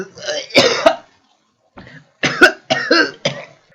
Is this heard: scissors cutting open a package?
no